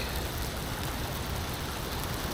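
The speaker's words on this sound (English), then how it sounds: "it's kind of raining medium" Medium rain falls steadily during a July summer storm, a dense, even wash of drops with no distinct individual impacts and no voices.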